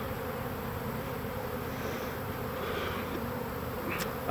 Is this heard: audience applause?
no